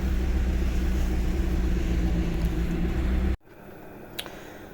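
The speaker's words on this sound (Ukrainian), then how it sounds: "Машинка пере" A home washing machine runs with a steady low rumble and hum that cuts off abruptly partway through. A faint click follows in the quieter room tone.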